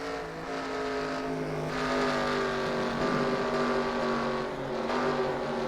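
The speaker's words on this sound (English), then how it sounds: "So JC Clement trying to reel in the 66 of Sear as we work off the 4th corner on the front stretch." Super 6 race cars roar around the short-track oval at Orange County Fair Speedway, several engines droning and rising in pitch together as the pack comes off the final corner onto the front stretch.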